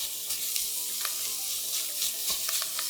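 Italian sausage sizzling steadily in a pan while being broken up, a bright close frying hiss with intermittent soft scrapes and taps of a utensil, no voices.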